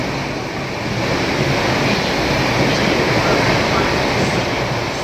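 A dense, even rumble and rushing hiss of the Rajdhani Express bound for Hazrat Nizamuddin carries on without break as it passes nearby, holding a constant loudness throughout.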